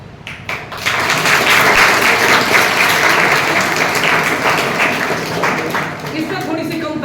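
Audience clapping during a Teachers' Day speech, starting with a few scattered claps and swelling into full, steady applause that gradually tapers toward the end.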